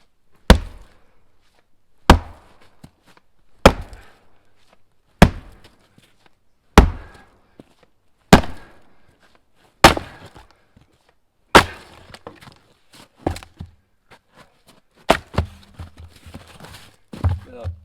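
A splitting maul strikes a large piece of wood about a dozen times at a steady pace of roughly one blow every one and a half seconds, each a sharp close thud. The wood splits and crackles toward the end.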